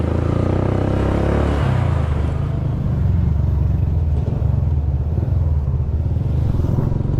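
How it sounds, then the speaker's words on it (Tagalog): A motor tricycle's engine rumbles close by, revving with a steady throaty drone and a clattering low-end pulse throughout. "Ayan pala yung tricycle"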